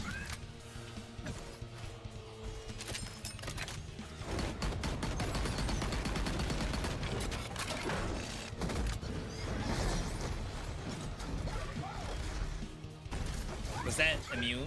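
Dense gunfire from many enemies in a roguelike video game, a busy stream of shots and crashes layered over game music, with a voice talking over it throughout.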